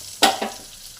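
Bay leaf, whole white cumin and whole garam masala drop into hot oil in a pan with a sharp burst of sizzling, followed by a second softer crackle as they are stirred, then fading to a low hiss.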